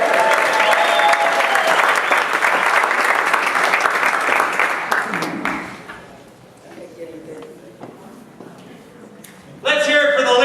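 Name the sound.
audience applause for Mark Foley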